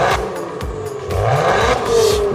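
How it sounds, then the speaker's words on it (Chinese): A Maserati Quattroporte with a trident badge, suspected of a gearbox fault that causes shuddering on the 2–3 upshift, revs its engine loudly and close, the pitch rising and falling across several blips. "玛莎这声浪确实没话说。"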